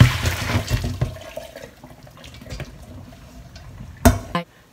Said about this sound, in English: Then drain the hot water.